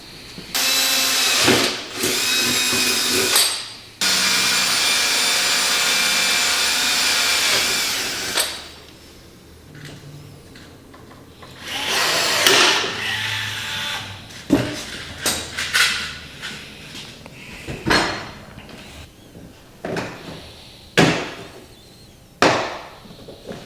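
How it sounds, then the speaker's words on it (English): A power drill whirs loudly in two sustained bursts while fitting a front bumper kit on a 2024 Polaris 9R 146 snowmobile, followed by clattering, tapping and handling noises of tools and parts nearby. "I'll get the drill and I'll just drill it"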